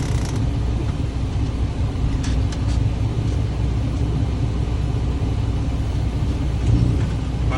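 A truck backing up slowly inside a cab during a pre-trip inspection gives a steady low engine rumble and drone, with faint creaks and mechanical clicks throughout and no talking.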